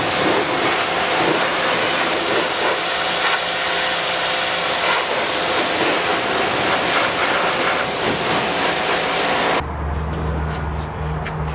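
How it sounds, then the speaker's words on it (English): A Ryobi 2000 psi electric pressure washer runs as a steady, loud broadband hiss and motor drone, cutting off abruptly near the end to a quieter hum. "This pressure washer also surprised me with its performance being electric."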